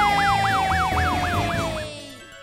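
Loud, close wail of a cartoon fire truck siren sweeping rapidly up and down several times before trailing off and fading out near the end, with a faint low rumble underneath.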